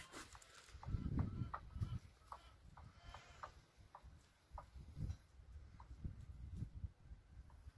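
Dwarf bantam hens from Koh Samui Island clucking softly in short repeated bursts, close and fairly quiet, with a low background hum and a few scattered calls from other birds.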